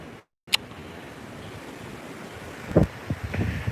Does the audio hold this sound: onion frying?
no